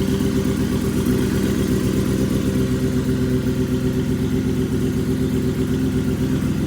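Yamaha R6 motorcycle engine, a used unit transplanted into the bike, running at a steady idle with a constant loud, droning hum and no change in pitch throughout, heard alone and close.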